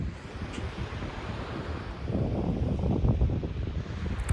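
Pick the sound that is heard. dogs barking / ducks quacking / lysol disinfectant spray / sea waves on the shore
sea waves on the shore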